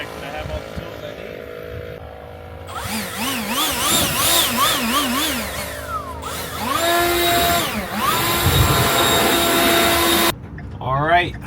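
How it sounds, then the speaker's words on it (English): Leaf blower blasting dirt out of a van's interior, a loud whining roar that surges and changes pitch in bursts, cutting off briefly before starting again near the end. "I want to leaf blow it out, clean out the inside because it's all full of dirt"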